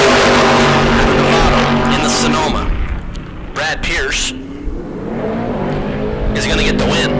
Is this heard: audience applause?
no